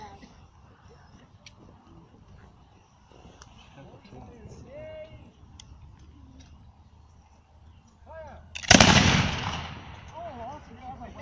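A loud historical gun fired by reenactors at Tretower Court booms once near the end as a single sharp blast with a lingering rumble, following several seconds of murmuring crowd and spoken talk.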